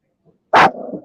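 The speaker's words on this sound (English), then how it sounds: "What the fuck are you barking at, man?" A dog lets out one sharp, loud bark close by, ending in a short rough tail. A faint soft noise comes just before it, and no one speaks.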